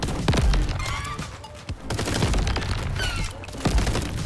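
Gunfire blasts at coconuts in the video game Crab Champions, rapid punchy shots with thuds and bursts that come in quick clusters over a busy game soundtrack.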